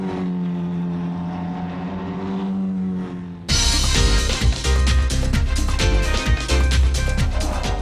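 A Formula Ford racing car drifting through a corner at the Ards circuit, its engine droning steadily before a loud, close burst of revving and rasping exhaust note, alone without voices.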